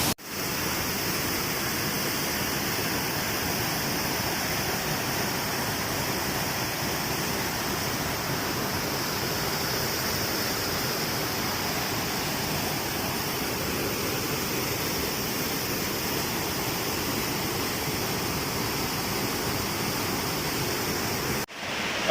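Mengaya waterfall near Takengon, Central Aceh, Indonesia, roars steadily and loudly throughout, a dense, unbroken rush of falling water with no voices.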